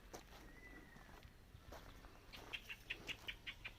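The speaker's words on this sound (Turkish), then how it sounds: "Kuş dibimizde." A bird close by in a valley on a nature walk, giving a run of short, sharp high chirps in the latter half, with light footsteps and faint rustling before, no talk.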